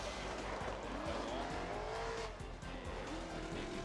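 A Formula Drift car at Long Beach slides off track toward the wall, engine roaring loud and steady with tire squeal and skidding noise throughout, no talk over it.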